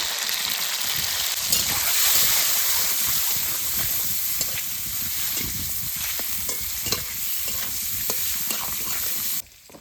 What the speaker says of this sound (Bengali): সর্ষের তেল তেল গরম হয়ে গেছে এবার ডিম দিয়ে দেবো